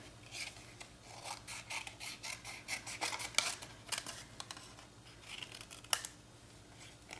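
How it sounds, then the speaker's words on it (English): Scissors snipping around a stamped paper butterfly in a quick series of crisp, close cuts, with brief pauses between strokes and a low hum underneath. "Now I'm just going to take my scissors and cut around the butterfly."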